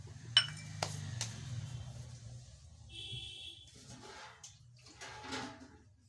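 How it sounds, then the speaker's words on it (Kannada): Two cups of water poured into a pan of jaggery while making sorghum-grit sajjige: a couple of short rushing pours, with faint clinks of utensils over a low steady kitchen hum. "ಎರಡು ಕಪ್ ನೀರು ಹಾಕ್ಬೇಕು"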